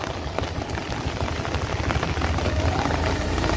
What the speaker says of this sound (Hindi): आज बारिश के साथ साथ हवा भी शुरू है।